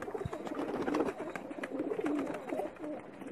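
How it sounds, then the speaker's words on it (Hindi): Pakistani high flyer pigeons cooing softly in a continuous murmur of overlapping low coos, with a faint background hum. "ये जेठ और चैतर में उड़ने वाले कबूतर हैं"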